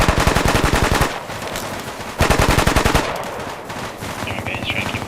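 Sustained machine gun fire in a military tactics video game, with rapid bursts of shots in two loud stretches and a lighter volley between, close and dense.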